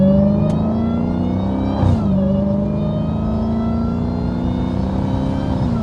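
A catless Hellcat pulls hard from inside the cabin, with a steady loud exhaust rumble and a rising supercharger whine that climbs in pitch, dips briefly at a shift, then climbs again.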